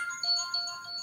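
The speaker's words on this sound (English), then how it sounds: "Oh, that was a phone." A phone ringtone chirps during a podcast recording, a thin electronic melody of sustained high tones that switch pitch, moderately loud and heard alone for about a second.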